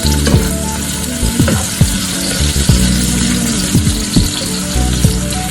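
Bell peppers for chicken fajitas sautéing in a hot pan, a loud, dense crackling sizzle with frequent spatula scrapes and pops, close up and uninterrupted.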